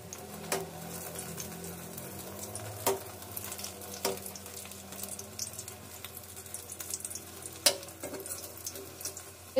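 Batter-coated flat beans fry slowly in oil on a low gas flame, giving a gentle ongoing sizzle broken by a few louder clicks and clatters from utensils nearby.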